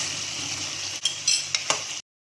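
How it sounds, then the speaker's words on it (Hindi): Mutton frying in a pan with spices and butter, a steady hiss of sizzling fat broken by several sharp scraping stirs of a utensil against the pan, close up before cutting off abruptly. "अब हम इन मसालों के साथ मटन को भूनेंगे।"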